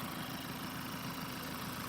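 Ford Focus 2.0 TDCI 110 kW diesel engine with automatic gearbox idling steadily, a close, even low rumble with a continuous mechanical hum and no voices.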